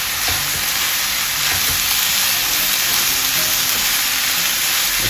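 Ground beef simmering with tomato sauce, cumin and other spices sizzles steadily in a pan, a continuous close-up hiss with faint scrapes of stirring and no talking.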